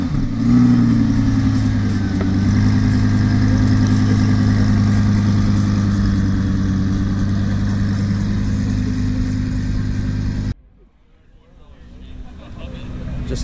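A deep, steady Ferrari LaFerrari engine idle rumbles continuously at close range, then cuts off abruptly, leaving near silence.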